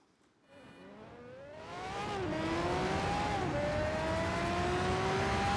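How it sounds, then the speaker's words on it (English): Pagani Zonda R race car in a racing video game at a sunny Spa-Francorchamps, engine note rising as it accelerates from the start, loud and sustained with rising pitch sweeps through gear changes. "I'm going to be driving the Pagani Zonda R against a field of mixed AI opponents"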